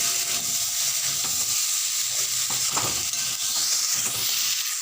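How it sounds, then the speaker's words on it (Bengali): Fried potatoes, cauliflower and peas being stir-fried with spices in oil: a steady sizzle runs throughout with scattered scraping and stirring knocks, close and fairly loud, no voices. "ভেজে রাখা আলু আর ফুলকপি শুকনোগুলো দিয়ে মশলার সঙ্গে মিশিয়ে নেবো ভালো করে"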